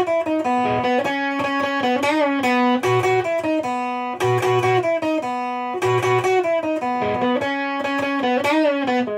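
Distorted electric guitar plays the intro riff of a punk song, loud and steady with repeating phrases of sustained chords and melodic notes, alone without talk.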